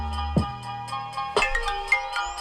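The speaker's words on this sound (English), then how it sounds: "Shout out to my phone ringing in the middle of my live." A phone ringtone plays as a melodic electronic tune in repeated bright tones, clear and fairly loud, with no talking over it, during an evening live stream in Atlanta.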